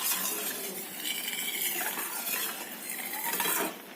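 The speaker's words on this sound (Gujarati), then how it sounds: "એની અંદર આ ટાઈમે આપણે એલચીનો પાવડર થોડો મિક્સ કરી દઈશું" A spoon scraping and clinking in a pan while cardamom powder is stirred into thick rabdi, continuous close scraping and soft metallic clatter without pauses.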